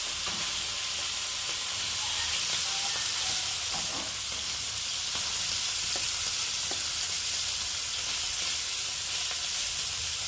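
Amudi fish pieces fry in hot oil in small batches, giving a dense, steady, close sizzle and crackle that runs unbroken and unaccompanied by voices.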